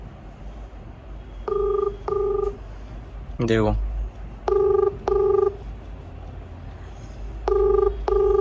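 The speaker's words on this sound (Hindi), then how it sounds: "अब डीएससी कॉन्टैक्ट नंबर पे फोन करते हैं।" Phone call to a scooter service centre's contact number, with repeated paired ringback tones sounding in regular bursts and a short rising sweep between them, plus a brief spoken word early on.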